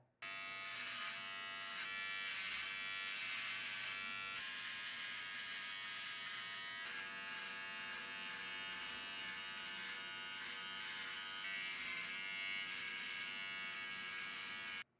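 A Wahl electric beard trimmer runs steadily while trimming a Hollywoodian beard along the neckline, its close, high-pitched motor buzz constant and loud for the full stretch with no talking.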